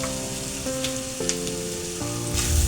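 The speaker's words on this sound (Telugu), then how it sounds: "ఒకసారి వేయించుకుందామండి." Raw anchovies frying in a pan for a Konaseema-style curry, giving a steady close sizzle with crackling pops and a few stirring scrapes, growing louder toward the end.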